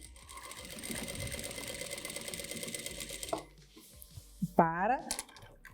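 A sewing machine stitches a diagonal quilting line along a quilt border with a steady fast rhythmic whirring for several seconds, then stops, followed by handling clatter and a brief high squeak.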